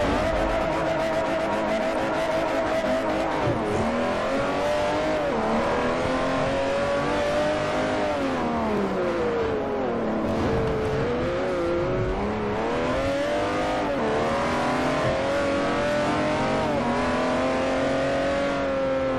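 Mercedes AMG GT R race car in Forza Motosport 4, its engine droning loud and continuous with rising and falling revs through gear changes, heard alone without talk.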